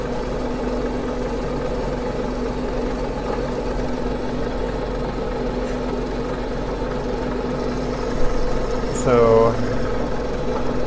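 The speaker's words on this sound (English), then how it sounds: "The sound it makes as it goes grinding along the gem is a smoother, more of a whispery sound instead of the rougher sound made by the coarse wheel." A lapidary grinding wheel works an Australian sapphire, giving a steady, close mechanical hum with a soft whispery edge. A brief voice cuts in near the end.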